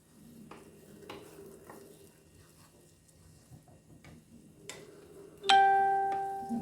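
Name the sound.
stirring jollof rice in a pot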